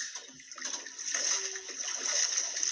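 A strong river current rushes steadily, a continuous close hiss of flowing water with no break for a few seconds.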